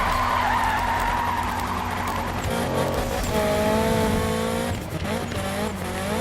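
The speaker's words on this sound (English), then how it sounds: "Started drifting a bit too early there" Tires squeal in a long, loud sweep as a 1976 VW Golf GTI drifts in the Need For Speed 2015 racing game, the engine droning steadily underneath and rising pitch sweeps appearing near the end.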